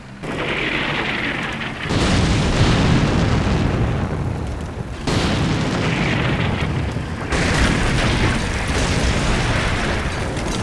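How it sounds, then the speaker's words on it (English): Opposing batteries trade artillery fire in the war game Combat Mission Black Sea. Loud, sustained booming rumbles roll in three long waves, with no voices. "have dueling artillery now"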